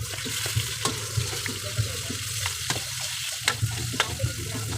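Garlic frying in a pan while Bicol Express is prepared, a steady close sizzle with intermittent clinks and stirring scrapes, no voices.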